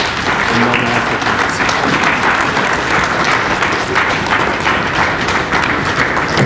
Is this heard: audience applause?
yes